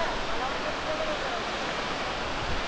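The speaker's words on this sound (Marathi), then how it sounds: "आलो आता मोठा धबधबा तुम्हाला दाखवतो पॉईंटवर जाऊन ना." A big waterfall at a viewpoint near Satara gives off a steady, dense rushing roar that fills the whole moment without a break.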